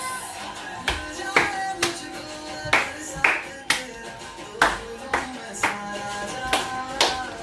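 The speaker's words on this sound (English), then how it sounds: "Three claps." Hand claps keep a steady, even beat during an Indian dance exercise for health, each one a sharp, close smack over a sustained musical background.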